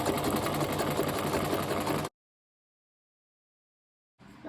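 A sewing machine runs a continuous straight-line stitch through fabric for about two seconds, steady and close, then stops dead into silence before starting again briefly.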